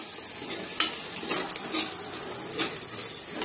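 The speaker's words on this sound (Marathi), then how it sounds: "ह्या मसाल्यांना पण तेलात चांगलं होऊ द्या." Turmeric, chili powder, coriander powder and a little garam masala sizzle in hot oil while a spoon scrapes and stirs the pan in several sharp strokes, under a steady close frying hiss with no talking.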